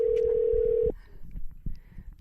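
Telephone ringback tone on an outgoing call: one steady, loud electronic tone that lasts almost a second and then cuts off, followed by quiet line noise and faint low voices.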